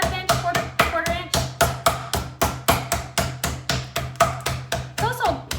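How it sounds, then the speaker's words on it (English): A chicken cutlet is pounded thin for frying, about fifteen steady, evenly spaced thuds of a meat mallet on a board, close and sharp, with faint talk between blows. "I'm pounding it to about a 1/2 inch, quarter inch."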